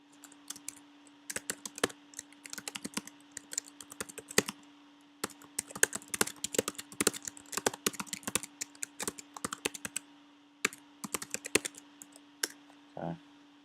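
Fingers type text on a computer keyboard in irregular bursts of crisp, close key clicks, pausing briefly between runs, steady over several seconds with a faint hum beneath.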